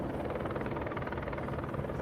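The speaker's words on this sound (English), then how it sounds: "You can hear them helicopters, though." Helicopters fly overhead in the city, their rotors producing a steady, pulsing chop under a constant engine drone that stays loud and unbroken throughout.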